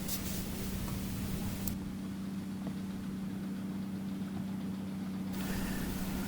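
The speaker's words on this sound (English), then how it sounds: "In this video, I am using a John Deere 18-foot Model 800 self-propelled swather, a machine commonly referred to also as a windrower." A John Deere 18-foot Model 800 self-propelled swather engine runs with a steady, low, faint drone during a durum wheat harvest on the Canadian prairies.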